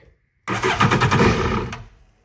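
A Yamaha VX1100 jet ski engine with a faulty throttle body cranks and catches abruptly, sputtering roughly and unevenly for about a second and a half before dying away.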